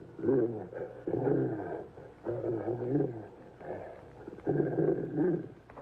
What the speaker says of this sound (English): What's he growling at?